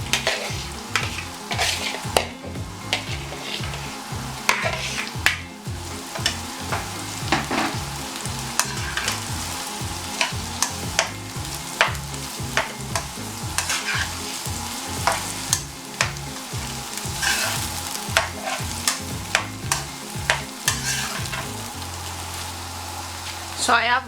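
Vegetables stirred into Nigerian fried rice in a pan give a loud, close sizzle with rhythmic scraping and clattering strokes of the spoon repeating steadily throughout.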